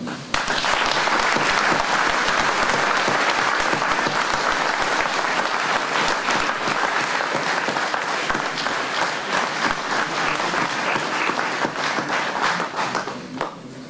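An audience at a New Year's wishes ceremony for a local council of 41 communes gives long, dense applause, many hands clapping steadily and loudly for about fourteen seconds before tapering off.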